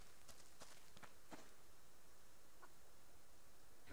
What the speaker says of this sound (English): A chicken nearby.